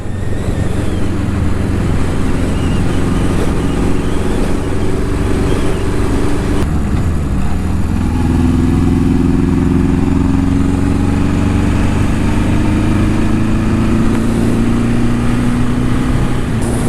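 A Honda CB750 cafe racer motorcycle riding along the escarpment road in Hamilton, engine droning loud and close, with the pitch dropping and then climbing again as the rider shifts, steady wind roar underneath.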